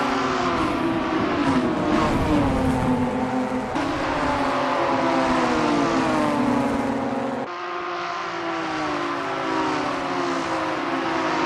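Ginetta G55 race cars at Thruxton circuit accelerating hard, loud continuous engine roar with rising and falling revs and gear changes, one car's note cutting away as another takes over, no talk.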